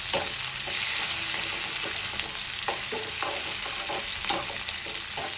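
Mustard seeds, cumin, onion, dried chilli, curry leaves and garlic sizzle in hot oil in a pan, a continuous bright crackle with occasional stirring knocks, close and steady with no talking.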